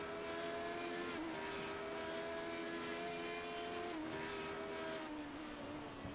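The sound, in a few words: Radical SR8 race car engine at Knockhill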